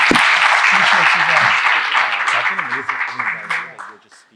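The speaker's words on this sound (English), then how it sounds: "Let's give them a round of applause." Audience at an ethics talk applauding a group of presenters, a loud burst of clapping that fades out gradually toward the end, with speech mixed in.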